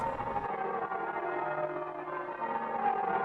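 Sustained, resonant ringing of church bells, tones blending into a continuous wash that hangs evenly throughout, moderately loud with no voices.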